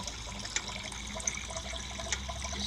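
Water coolant drains out of a PC water-cooling loop toward the bottom radiator, a steady close trickle with a few small drips and splashes, no talking.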